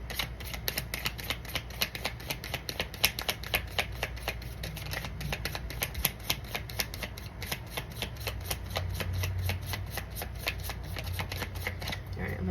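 Tarot cards are shuffled steadily for about twelve seconds, a dense run of crisp riffling flicks and soft paper slaps close by, with no talking over them.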